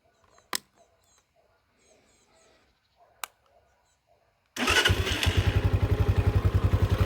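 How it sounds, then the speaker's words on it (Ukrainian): A Spark SP150R-14 motorcycle with an SK162FMJ engine, warmed up after an oil change, starts suddenly after a few quiet clicks and settles into a loud, close, rhythmic idle with a steady pulsing beat. "Ось так легесенько заводиться. На прогріту."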